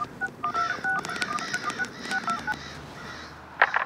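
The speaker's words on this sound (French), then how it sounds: "J'appelle tout de suite mon professeur." Telephone keypad tones sound in a quick series of short dialing beeps, close and clear, followed by a brief ringing burst at the end.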